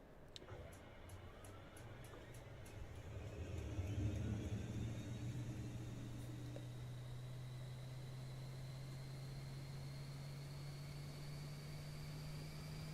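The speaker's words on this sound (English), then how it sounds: "we're going to go right to an APU start at the gate" A Boeing 737 MAX 8 auxiliary power unit starts at the gate with its igniter in Microsoft Flight Simulator 2020: rapid igniter ticks at first, then a steady low drone under a slowly rising high whine, with no voices.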